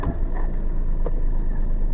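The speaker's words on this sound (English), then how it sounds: "Man, this Wigo engine shakes a lot." A 2018 Toyota Wigo engine idling steadily with a shaking, low rumble, heard close up and alone.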